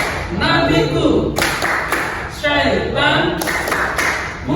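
A classroom of students claps along to the Tepuk Islam chant in rhythmic bursts of hand claps, loud and close, mixed with their chanting voices.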